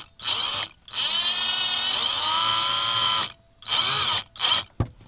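A cordless drill drives screws into a camper van during a van conversion, several loud whining bursts of varying length with short pauses between, the motor pitch rising and falling, ending with a sharp click.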